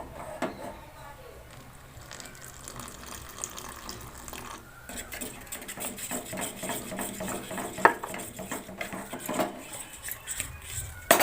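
A thick flour batter for rose-shaped chop being mixed with added water and salt in a bowl, giving wet sloshing and scraping stirs with occasional clinks, fairly quiet and continuous throughout.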